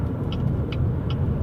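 Car in motion heard from inside the cabin: a steady low road rumble and engine hum with a few faint, brief high ticks over it.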